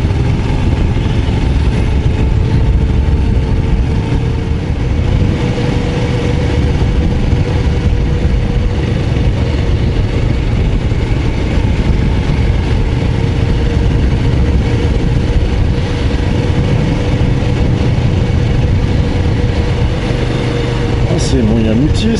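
A Royal Enfield Scram 411 motorcycle engine drones steadily while riding, a loud continuous low thrum with wind rush throughout.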